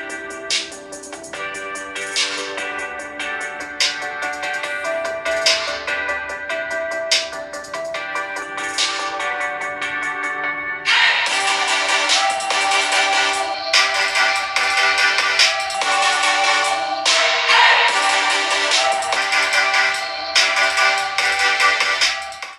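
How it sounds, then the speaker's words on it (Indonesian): Ringtone-style music plays loudly through the single mono speakers of a vivo V23 5G and an OPPO Reno7 Z smartphone in a loudness comparison, a continuous melody that jumps noticeably louder and brighter halfway through. "kedua HP ini sayangnya masih kompakan ya, sama-sama pakai single atau mono speaker, tapi lebih keras yang mana"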